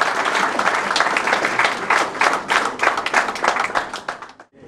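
Warm audience applause at an excellence prize-giving ceremony, a loud crowd clapping with distinct rhythmic pulses that fade out at the end.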